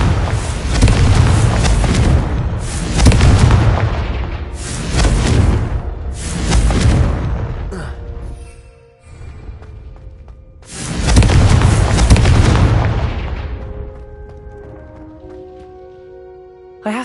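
Confringo explosive spell blasts in the video game Hogwarts Legacy: a series of loud, booming explosions with rumbling tails, several in quick succession, a pause with fading debris and tonal game sounds, then another big blast.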